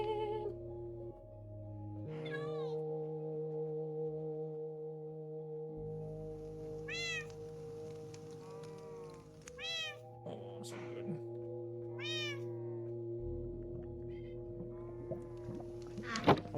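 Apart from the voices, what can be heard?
cats meowing and chirping in the video game Minecraft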